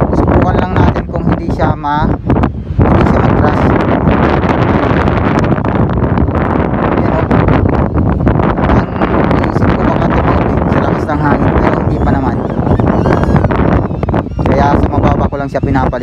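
Strong wind roars into the microphone nonstop during a DJI Neo drone flight, loud and buffeting with gusty rumbling throughout.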